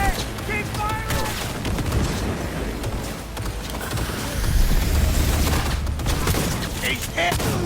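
Heavy gunfire in Cyberpunk 2077 during a guarded assault, dense bursts and booms overlapping continuously and loudly, with shouted voices and game music layered over the shooting.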